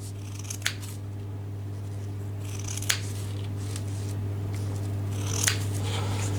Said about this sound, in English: get a pair of scissors